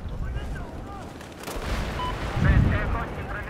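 Battlefield 4 combat with bursts of gunfire and heavy booming impacts, loud and close, mixed with rumbling explosions and other battle noise, while players talk over it.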